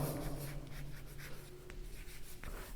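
Pen or marker scratching steadily across paper while a math solution is written out, a continuous close scribbling with a few sharper strokes, no talking.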